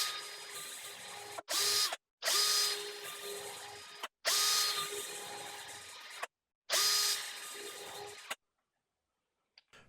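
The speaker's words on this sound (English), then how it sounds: "I will now pre-drill small holes for the screws so that the wood does not crack" Short power-tool bursts as the smallest wood drill bores pilot holes for screws in wood, four separate whirring runs of about a second each with brief gaps between, close up and alone.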